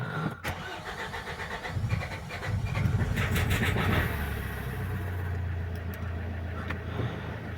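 A Renault Trafic 2.0 engine cranks and catches, then settles into a steady idle with a rough, uneven start, heard close up without speech.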